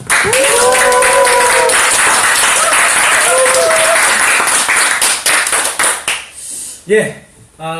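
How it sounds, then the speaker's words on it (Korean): Staff gathered for a company talk break into loud, dense applause, with cheering voices over the clapping; the clapping thins into scattered claps near the end as a voice begins. "여기 계신 직원분들과 함께 큰 박수로 시작하도록 하겠습니다"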